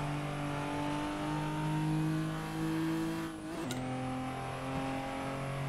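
A turbocharged Japanese car engine in the racing game Assetto Corsa drones steadily at high revs, its pitch dipping sharply for a gear change near the middle before climbing again, continuous and up close with no talk.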